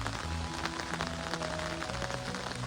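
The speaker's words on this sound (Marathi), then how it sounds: "पाऊस जो चालू झाला तो नॉनस्टॉप" Steady rain patters on a surface, a dense continuous hiss of drops with faint tonal hum underneath.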